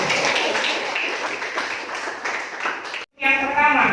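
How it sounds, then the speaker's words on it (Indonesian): A classroom audience applauds a student group, dense clapping lasting about three seconds before a brief cut, then a voice speaking over lighter sound. "Silakan kita kasih tepuk tangan dulu untuk kelompok Petra."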